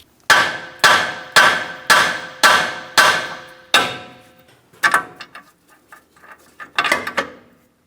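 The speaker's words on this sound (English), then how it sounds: "you can use a hammer. A couple light taps will cause vibration." Hammer taps on a Ford Transit-250 outer tie rod end: seven sharp, evenly spaced metallic strikes ringing out close by, followed by a few quieter, irregular knocks and clinks.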